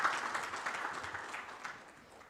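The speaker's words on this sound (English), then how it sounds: "Another warm hand clap for Mr." Audience applause for a keynote speaker at a multi-stakeholder forum on Uganda's high-tech future, a steady wash of clapping at moderate level that holds throughout before gradually easing.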